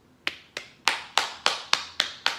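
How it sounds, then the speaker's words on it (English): Eight sharp hand claps in an even rhythm, close and crisp in a quiet room, with no talking. "But I give you applause."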